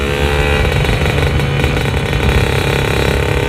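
A two-stroke motorcycle engine revs hard and steady up close, a buzzy, crackling drone held at high pitch throughout.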